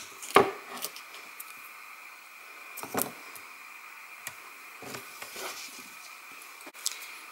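A piece of scrap paper is cut for card making, giving a few sparse, crisp clicks and snips spaced apart against a quiet background.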